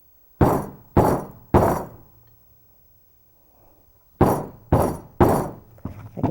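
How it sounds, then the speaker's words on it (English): A rubber hammer strikes an eyelet setting tool resting on a hard surface while a corset is being made: three loud, sharp impacts in quick succession, a pause, then three or four more in a steady rhythm, close and alone. "Place this on a hard surface, the tool on top. Strike it with your rubber hammer."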